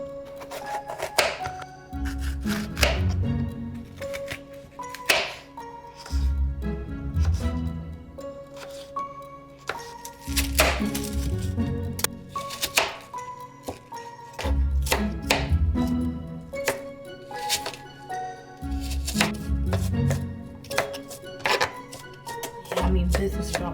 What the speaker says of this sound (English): Time to chop some vegetales.